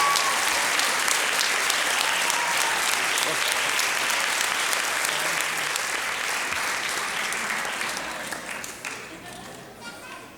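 Audience at a school circus and music performance applauds an elected official, a long, dense wave of clapping that stays loud for most of its length and then gradually thins and fades near the end.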